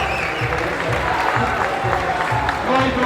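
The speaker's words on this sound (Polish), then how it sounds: "Brawo, wielkie brawa." A crowd claps and applauds steadily at a competitive event, with a voice talking loudly over the applause throughout.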